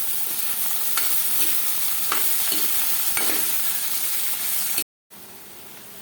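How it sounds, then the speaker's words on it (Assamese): Chopped ridge gourd sizzles in hot oil with fenugreek, garlic and green chili, a steady close frying hiss broken by a few stirring scrapes and a short gap of silence near the end. "এয়া গৰম হোৱাৰ পিছত মই কাটি থোৱা জিকাখিনি ইয়াতে দি দিলোঁ।"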